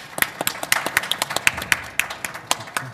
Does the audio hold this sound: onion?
no